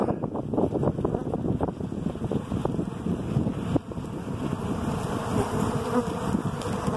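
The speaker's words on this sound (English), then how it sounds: "So these are robber bees." Dense, steady buzzing of many robber bees fills the air continuously around a bee yard, with wind rumbling against the microphone.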